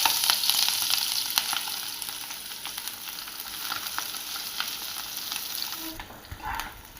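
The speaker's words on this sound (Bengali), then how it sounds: "তেলের মধ্যে প্রথমে পেঁয়াজটা দিয়ে দেব" Onion frying in hot oil in a wok, a loud, continuous close sizzle with crackles and stirring scrapes throughout.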